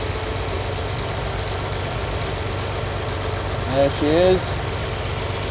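A Lamborghini 350 GT engine idles at a steady, low rumble during mixture adjustment, the revs dipping slightly as a cylinder drops, with a brief spoken remark near the end.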